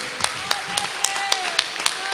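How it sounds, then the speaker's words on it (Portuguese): Rhythmic handclapping at a church service, about eight evenly spaced claps with a steady beat over soft background voices and a sustained tone, reasonably close. "Pode voltar para o teu lugar, aplaudindo ao Senhor. Aplauda ao Senhor, glorifica a Ele."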